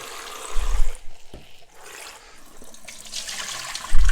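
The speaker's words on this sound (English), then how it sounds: "I'm going to rinse it real good." Wild poke greens get rinsed under running water, which splashes and trickles unevenly with a few louder gushes, close by and without talk.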